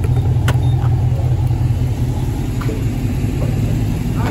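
Convertible car's engine revving on the interstate, a loud, deep rumbling drone with low throb that holds steady throughout, near, with a few faint clicks and no clear talk.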